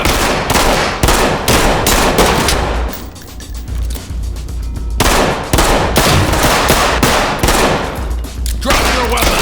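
Rapid bursts of gunfire from a video game gun fight inside a human trafficking lair: loud, dense volleys of shots running almost continuously, with a brief quieter lull in the middle.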